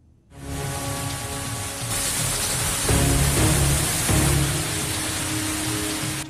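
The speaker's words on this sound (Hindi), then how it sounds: "झमाझम बारिश के साथ एनसीआर में मॉनसून ने दस्तक दे दी है।" Heavy monsoon downpour over Delhi NCR, a dense, loud, steady roar of rain on surfaces that thickens after the opening second and holds unbroken, with no voices.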